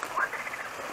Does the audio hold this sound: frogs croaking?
yes